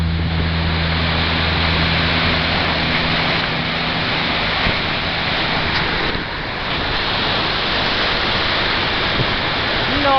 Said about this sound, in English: Beautiful falls. Big fall.